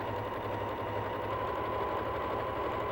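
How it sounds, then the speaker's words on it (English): A sewing machine stitching quilt fabric in a continuous run, its fast, even mechanical whir and chatter steady and close with no pauses. "I'm going to sew off that onto this piece and just continue sewing"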